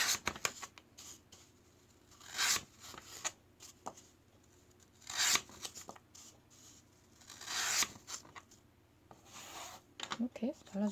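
Knife cutting through a floral foam (oasis) block to fit a round pot opening, a series of short scraping, crumbling strokes with pauses between, close and fairly quiet.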